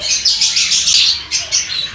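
Small rosy-faced lovebirds chirp rapidly and shrilly, a steady flurry of high tweets close by with no other sounds.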